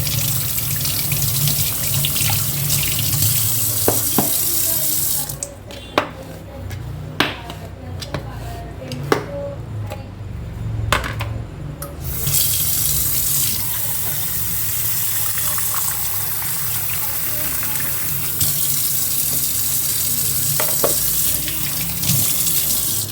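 Kitchen tap running steadily into a sink while dishes are washed, a continuous rush of water with clinks of dishes and a brief pause midway, someone talking over it.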